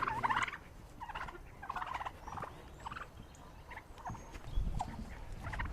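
Turkeys gobble repeatedly in rapid, warbling bursts, fairly faint and a little distant, with rustling and shuffling noises underneath.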